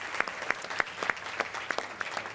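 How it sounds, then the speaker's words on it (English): Scattered applause from a breakfast audience at a 2017 NOMA keynote event, with fairly quiet claps in a loose, steady rhythm and no voices over them. "Please give them a round of applause"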